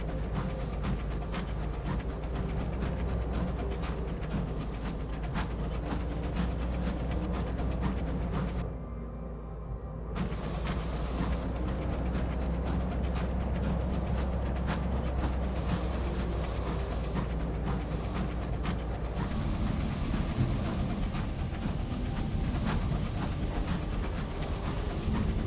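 A continuous rumbling, chugging locomotive drone in the video game Sunless Skies, steady and fairly loud throughout with a brief dip in the middle, no voices.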